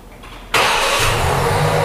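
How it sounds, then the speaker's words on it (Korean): A car engine started remotely through the Infocon app catches abruptly after a short quiet pause, then settles into a loud, steady close idle. "시동을 인포콘으로 켜게 되면 스타트"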